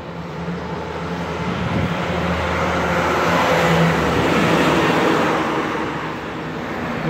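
An unidentified truck drives past on a road, a broad rushing swell of engine and tyre noise that builds toward the middle and fades as it moves away, with steady traffic rumble underneath.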